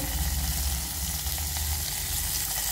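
Ginger and curry leaves crackle and sizzle in hot oil during a fasting-day tempering, a steady, close frying hiss with soft bubbling that holds evenly throughout.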